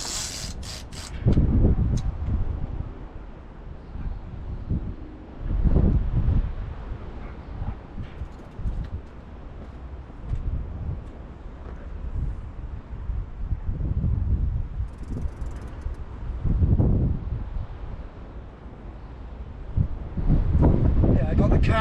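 Strong gusty wind buffets the microphone on a rocky shore while fishing, a loud, rumbling roar that swells and drops in repeated gusts, with a voice talking underneath at times.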